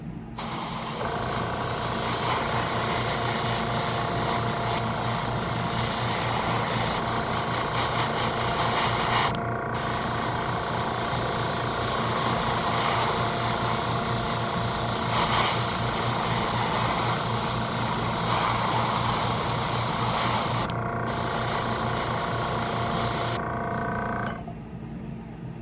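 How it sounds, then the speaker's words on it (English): Airbrush spraying paint onto Warhammer miniature bases for a marbling effect: a steady close hiss lasting most of the time, broken by a few brief pauses, with no talk. "So just another thing the airbrush excels at,"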